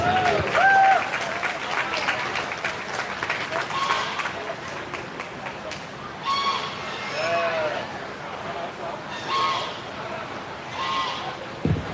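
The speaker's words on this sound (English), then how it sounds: "Give him a round of applause." Applause rises from a crowd at a 4-H and FFA sheep show at the Lancaster County fair. The clapping fills the space steadily, sheep bleat several times nearby, and the crowd keeps up a background murmur.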